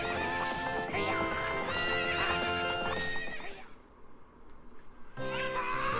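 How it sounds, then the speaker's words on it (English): Epona, a horse in The Legend of Zelda: Ocarina of Time, whinnies loudly and close over clip-clopping hooves, with a second neigh after a brief quieter gap. "What's up with that horse? Is that Epona?"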